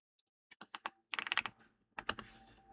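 Quick clattering keystrokes on a new computer keyboard, heard up close in a few uneven bursts, one brief dense run followed by a short pause and a few more taps, with no voices.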